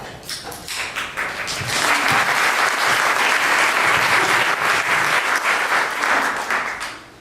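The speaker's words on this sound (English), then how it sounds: "I'm glad I got the applause first" Audience applause for David Strom at a Minnesota climate change symposium, a dense, steady wash of many hands clapping that swells in, holds loud for several seconds, then fades away.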